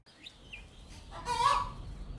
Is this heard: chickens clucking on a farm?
yes